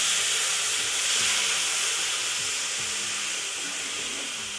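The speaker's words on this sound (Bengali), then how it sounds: "তো আমি দুধটা ঢেলে দেবো" Milk is poured slowly into a hot pan with bay leaves, giving a continuous soft sizzle and steamy hiss that stays fairly even and gradually eases, with faint stirring underneath.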